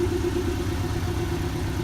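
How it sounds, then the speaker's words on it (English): A close, steady idle from the 2.5-liter turbocharged engine of a Porsche 718 Boxster S: a constant low burble that holds level throughout, with no speech over it. "The sound changes a little bit due to the larger engine."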